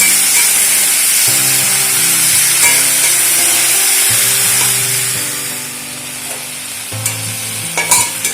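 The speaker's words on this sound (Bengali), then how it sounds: "এবারে সমস্ত সবজি খুব ভালো করে ভেজে নেব একসাথে" Mixed vegetables, including chopped sweet pumpkin, fry together in oil in a kadai. There is a loud, continuous sizzle with repeated stirring scrapes and clatters, easing slightly toward the end.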